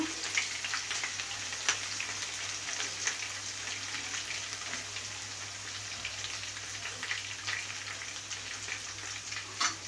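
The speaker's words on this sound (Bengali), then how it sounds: "এটাকে একটু কষিয়ে নেব। এবার এর সাথে দিয়ে দিব 2টো তেজপাতা।" Chicken pieces with ginger-garlic paste and two bay leaves sauté in a hot pan, giving a steady, close hiss and crackle with scattered small pops throughout, and no voices.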